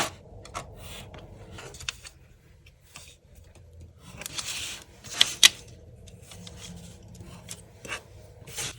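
Scissors cutting the corners of a cardboard gift box, a series of soft snips and crisp crunching clicks at close range, quiet and irregular, with a couple of sharper cuts near the middle.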